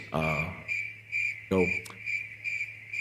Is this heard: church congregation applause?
no